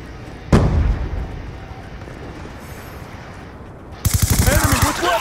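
Gunfire exchange in the video game Black Ops 2 multiplayer: one sharp loud shot early, then a lull of game ambience before a fast, rattling burst of automatic fire near the end.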